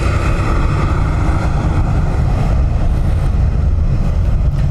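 A Ryanair airliner departs for Gatwick with a loud, steady engine roar that stays constant throughout, close and without talk.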